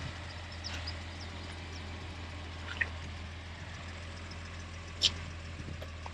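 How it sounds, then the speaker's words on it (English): An early Datsun 240Z with a carbureted straight-six engine, idling as a faint, steady low hum with a few light ticks, no voices. "that early carbureted motor makes such an awesome sound"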